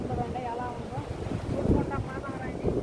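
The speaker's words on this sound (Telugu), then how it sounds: "గాలి అయితే ఇసురుగా ఉంది" Strong wind near a beach buffets the microphone in steady gusts, with a faint voice under the rushing noise.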